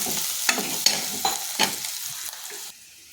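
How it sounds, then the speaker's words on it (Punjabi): Onions frying in a pan for a home-cooked Punjabi meal, with a steady broadband sizzle broken by sharp scraping clatters of stirring, close up. The sizzle drops away abruptly near the end. "ਆਪਣੇ ਇਧਰ ਪਿਆਜ਼ ਭੁੱਜ ਰਹੇ ਆ"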